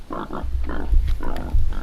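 Bigorre black pigs, raised outdoors on a French farm, grunt in short close snorts, several low grunts in quick succession with soft rustling around them.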